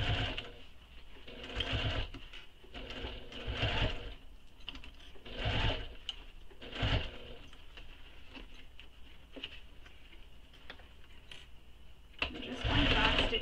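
A sewing machine stitches a crossbody bag near a D-ring in short, uneven bursts, with soft handling taps and pauses between runs.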